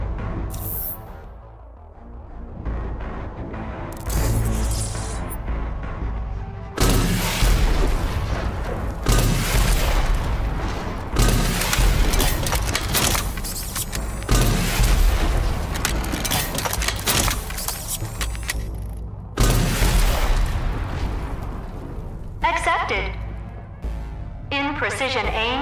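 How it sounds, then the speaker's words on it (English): A smart rocket launcher in the shooter game Rage 2 fires rockets in repeated loud booming blasts, each with heavy rumbling explosions, while a voice talks over much of the barrage. "It fires nanotrite-propelled rockets, which cause a large radius of damage."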